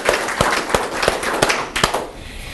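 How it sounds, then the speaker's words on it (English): A small audience at a crappie anglers' club meeting claps for a three-time Angler of the Year: steady, fairly even hand claps with sharp individual slaps standing out, tapering off near the end. "I think he deserves a great round of applause"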